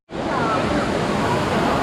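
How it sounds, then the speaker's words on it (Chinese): The waterfall at Lushan's Three-Step Spring, heard from its base, gives a loud, dense, steady roar of rushing water that starts abruptly and holds constant, close by. "现在这边就是瀑布下面的状况"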